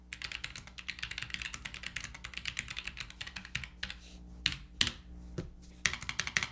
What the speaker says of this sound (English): This has Gateron switches on it, and just listen to the typing on this real quick.